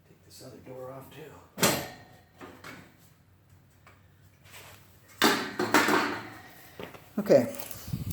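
The metal access door panel comes off a Rheem Criterion II downflow furnace with sharp clanks and scrapes, separated by quieter moments, while someone talks nearby.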